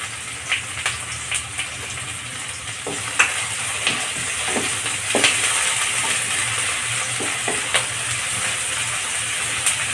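Onions and two dried red chillies fry in a pan over a medium flame, giving a steady broad sizzle with scattered crackles and pops as they are stirred, close and continuous with no talk.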